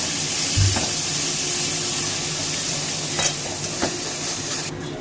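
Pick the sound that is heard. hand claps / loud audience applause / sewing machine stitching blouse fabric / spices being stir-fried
spices being stir-fried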